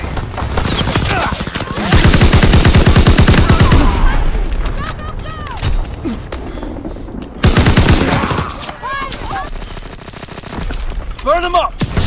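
Gunfire in Call of Duty WWII multiplayer: loud rapid automatic bursts of shots in two main volleys, with scattered single shots and game voices calling out between them.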